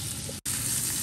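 Oil sizzles steadily and loudly in a nonstick pan at a remote island campsite while fresh catch is cooked, the hiss cutting out for a split second before resuming.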